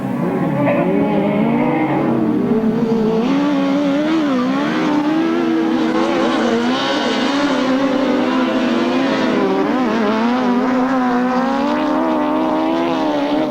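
Grasstrack racing motorcycles at a 1994 meeting, loud buzzing engines rising and falling in pitch as riders hold a tight line round a turn and twist the throttle, several machines overlapping continuously.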